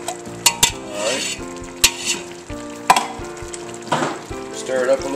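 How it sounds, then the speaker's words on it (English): Minced garlic stirred in a pot for crawfish étouffée, a spatula scraping and clinking against the metal over a soft sizzle, with several sharp knocks, close and alone. "Stir it up a little bit. Get it all mixed in good."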